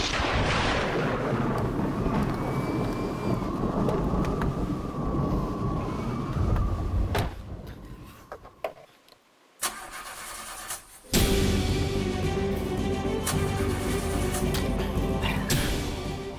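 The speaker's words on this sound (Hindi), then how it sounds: "बाहर तूफान और ज्यादा बढ़ रहा है।" A storm rages outside a house in a Hindi TV drama, with heavy rumbling thunder and roaring bursts of noise that swell, drop to a near lull, then crash back loud and sustained.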